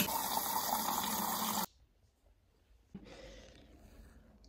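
Water running at a gym, a loud steady gush from a tap or fountain that cuts off abruptly, followed by a softer, quieter flow.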